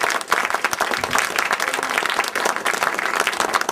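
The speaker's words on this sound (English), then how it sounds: "big round of applause for your excellent candidates." An audience claps in sustained applause, dense and even throughout, fairly close and loud.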